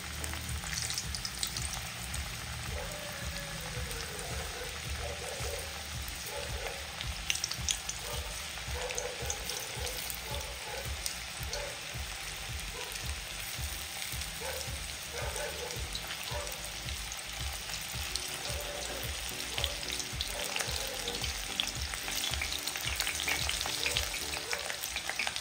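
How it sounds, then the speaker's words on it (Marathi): Slices of bitter gourd (karela) deep-fry in hot oil with a continuous close sizzle and bubbling. Faint stirring taps sound throughout and no one speaks. "छान फ्राय होतात आहेत ना. आवाज येतोय ना."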